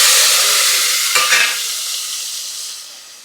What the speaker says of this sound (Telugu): నూనె అయిపోయినాక తాలింపు గింజలు వేసుకోవాలా. చూడండి పటపట అంటాయి.